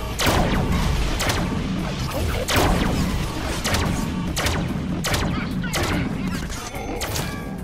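Rapid gunfire from the Deadpool video game, dense bursts of shots with sharp impacts and crashes layered over continuous loud game action.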